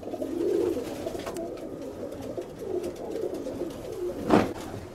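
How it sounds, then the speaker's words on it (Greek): Pigeons of a Greek show-pigeon loft coo in soft, low bursts, one fuller call at the start and another near the end, heard fairly close against a steady background murmur. "Τώρα βλέπουμε τα πουλιά."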